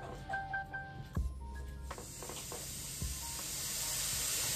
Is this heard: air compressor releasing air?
yes